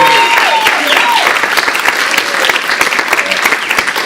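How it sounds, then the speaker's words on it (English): A crowd at an awards event claps steadily in dense, sustained applause, the sound close and loud throughout, with some voices mixed in. "let's just give our superstars a final round of applause."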